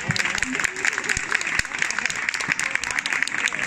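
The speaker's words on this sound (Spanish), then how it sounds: "Le damos fuerte aplauso para Ana." Applause for Ana from a crowd at an outdoor neighbourhood festival show, scattered clapping with a voice talking over it and a few whistle-like tones.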